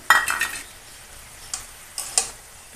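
Ground cumin, coriander and ginger paste being stirred into cabbage in a pan, with a few distinct scraping strokes near the start and a couple of short clinks later, separated by quiet stretches.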